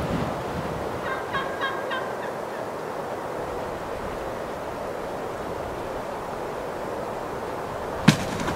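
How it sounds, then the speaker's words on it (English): Gould's wild turkeys gobble in a run of repeated calls early on, moderately distant in an open outdoor setting, followed by quiet ambient background and a single sharp knock near the end. "There's two gobblers there."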